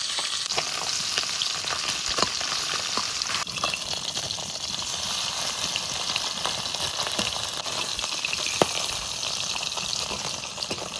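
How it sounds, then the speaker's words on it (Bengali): Fairly large tengra fish frying in mustard oil in a hot kadai, a dense crackling sizzle with sharp pops and occasional stirring, steady and close throughout with no speech. "ট্যাংরা মাছগুলো আগে ভেজে নিই, ট্যাংরাগুলো একটু বড় বড় আছে।"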